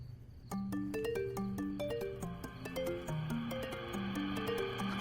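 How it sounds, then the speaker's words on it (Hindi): A phone ringtone plays a bright, repeating electronic melody of quick chiming notes, fairly faint and steady, with no one speaking over it. "अभिजीत का फोन?"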